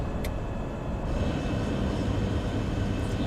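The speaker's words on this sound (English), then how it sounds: "Let's go ahead and drop flaps." Aircraft flaps extending in a flight simulator, heard as a steady loud drone of cockpit and engine noise with a faint whirring shift partway through, no voices.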